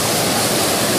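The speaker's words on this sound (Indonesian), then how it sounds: "inilah anak sungai" A small stream rushes nearby during a family holiday outing, a loud, steady, close wash of flowing water with no other sounds breaking through.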